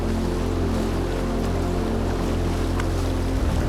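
Flood water rushing beside a road in a ghat near Jawhar after a landslide, a loud, steady roar that fills the whole clip alone, with a constant low rumble and broadband wash of turbulent water and no voices.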